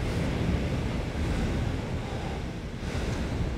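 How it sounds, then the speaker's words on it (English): The tide comes in on Jersey Marine Beach, heard as a continuous wash of surf with some breezy wind noise on the microphone, steady and moderately loud, with no voices. "This is the tide coming in on Jersey Marine Beach."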